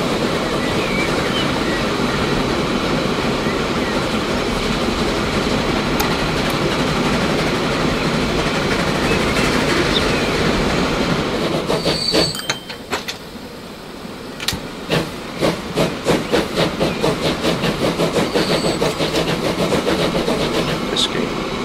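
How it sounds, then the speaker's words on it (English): A train in Transport Fever 2 on a Pacific island map runs with a steady, broad rolling noise, then fades into softer ambience with rhythmic clacks from the wheels passing rail joints toward the end. "Let's follow this train."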